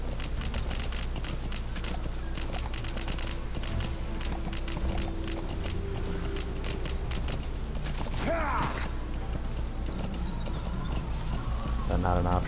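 A horse keeps up a brisk hoof rhythm in the video game Metal Gear Solid V, the clopping running under game music and mechanical creaks, with a brief whinny-like burst near the end.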